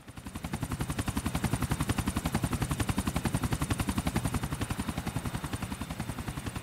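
GTA IV video game helicopter with gunfire: a loud, steady rapid rotor chop or automatic fire pulsing evenly throughout, with no talk.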